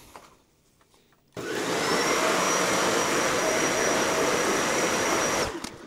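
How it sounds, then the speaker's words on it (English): A full-size household vacuum cleaner powered by a 12 volt, 100 amp hour lithium iron phosphate battery switches on after a quiet moment, then roars loudly and steadily with a high whine for about four seconds before shutting off. "Can this GrenerPower 12 volt, 100 amp hour lithium iron phosphate battery run a full-size household vacuum cleaner?"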